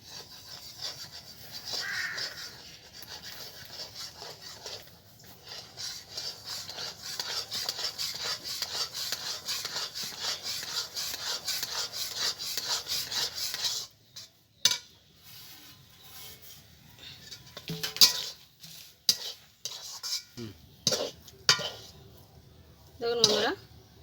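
Semolina stirred little by little into boiling milk in a pan to form dough for gulab jamun, a steady scraping and rubbing of spoon against pot for about fourteen seconds, then sparser knocks and clatters.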